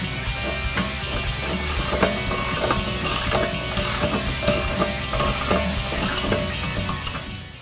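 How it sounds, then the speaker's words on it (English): A ratchet clicks rapidly and continuously while tightening bolts on a Ford Mustang rear wheel bearing and hub assembly, close and loud, with metallic mechanism chatter throughout. "Now we go back, tighten everything down."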